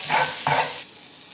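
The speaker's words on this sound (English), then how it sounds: "That's going to stir fry for a minute, along with the garlic clove here" Garlic sizzling and being stirred in a hot pan: two quick scraping strokes, then the sizzle quiets to a softer hiss.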